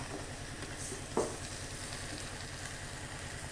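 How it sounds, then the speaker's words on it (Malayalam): Cleaned netholi anchovies hit a hot pan for a fish curry, setting off a steady close sizzle of frying with a brief stirring clatter partway through and no voices. "അതിലോട്ട് വൃത്തിയാക്കി വെച്ചിരിക്കുന്ന നൊത്തോലി ഇട്ട് കൊടുക്കുകയാണ്"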